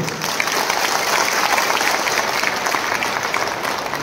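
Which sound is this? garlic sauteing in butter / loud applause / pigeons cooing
loud applause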